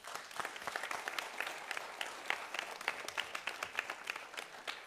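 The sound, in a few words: audience applause for the kids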